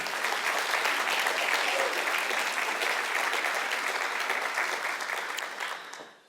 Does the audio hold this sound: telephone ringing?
no